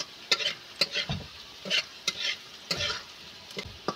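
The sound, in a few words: garlic frying in oil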